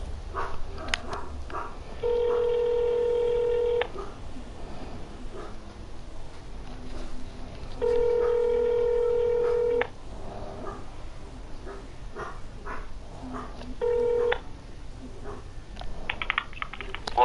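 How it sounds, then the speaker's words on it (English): Phone dialing an outgoing call, three steady ringback tones in separate bursts about six seconds apart, moderately loud, with voices and background noise in between. "Calling Raymond."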